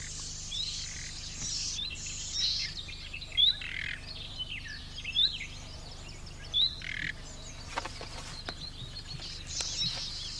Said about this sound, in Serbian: Pesma slavuje je dobro poznata